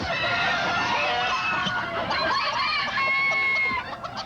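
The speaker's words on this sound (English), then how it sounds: "Hundreds of pet chickens who all like to talk at once" Hundreds of pet chickens clucking and squawking all at once, a dense, continuous chorus of overlapping calls close by.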